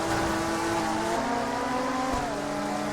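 A Panoz race car engine in the racing game Total Immersion Racing, a sustained droning tone with shifting pitch, steady and moderately loud.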